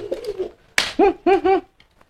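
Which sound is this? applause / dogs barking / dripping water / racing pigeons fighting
racing pigeons fighting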